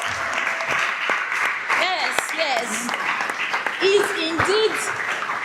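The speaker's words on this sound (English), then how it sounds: "Please clap the loudest." Applause from an audience runs steadily under a voice speaking over it, with cheering calls rising near the end.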